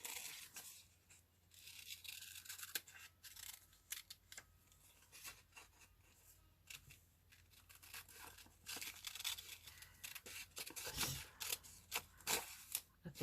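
Scissors fussy cutting roughly around a printed paper picture of a king for a collage, a close, steady run of snipping and crisp paper rustling with faint hum beneath.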